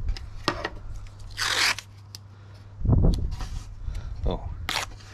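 Blue masking tape ripped off the roll in a self-build campervan, several sharp tearing bursts of varying length with small handling clicks and rustles between, close and fairly loud.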